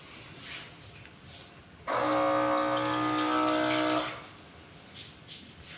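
Water pours steadily into a cooking pot of Kenyan githeri for about two seconds, a close, bright splashing stream that starts and stops abruptly against a quiet kitchen background.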